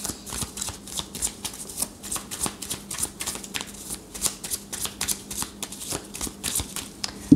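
Tarot cards being shuffled by hand, a soft, close series of quick riffling flutters and light slaps repeating in an irregular rhythm, mostly alone with little else around.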